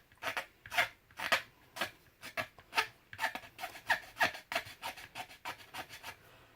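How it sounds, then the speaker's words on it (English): Hand file rasping down dried putty on a plastic model kit part, a brisk series of about twenty short, close scraping strokes in an uneven rhythm, quiet and with no talking. "It's time to file it down."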